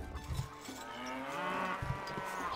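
A dairy cow lets out a long, drawn-out moo in the video game Stronghold, clear and fairly close over a faint background.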